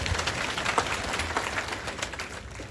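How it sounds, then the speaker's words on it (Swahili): A church congregation claps for Jesus, a steady wash of many hands with faint chatter mixed in, fairly distant and even throughout. "Pigie Bwana Yesu makofi."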